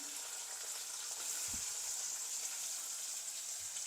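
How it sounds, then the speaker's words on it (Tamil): Potato and onion pieces fry in oil, giving a soft, steady sizzle at low volume with one brief dull knock partway through. "நல்லா எண்ணெயிலே நல்லா ஃப்ரை ஆகணும் இந்த உருளைக்கிழங்கு"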